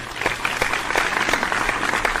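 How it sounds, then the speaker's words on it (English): Audience applause on an NBA playoff talk show, a loud, steady burst of many hands clapping at close range for the whole moment. "Hey y'all, give him applause, man, for standing out on a very, very skinny limb."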